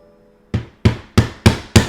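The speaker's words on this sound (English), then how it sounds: "Use the hammer, or I'm gonna use a rubber hammer, and kind of tap it in" A rubber hammer taps a bearing into a SIG MPX K receiver, five sharp, evenly spaced knocks that ring briefly and fade, close by, after a moment of quiet.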